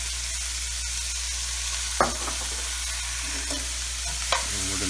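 Chicken and sausage sauté in olive oil in a pan for Chicken Scarpariello, giving a steady, bright sizzle with a couple of short stirring scrapes.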